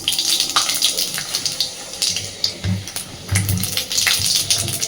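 Panch phoron spices dropped into hot oil, a loud close hiss and crackle of sizzling with bursts of spattering and a few clinks, no talk.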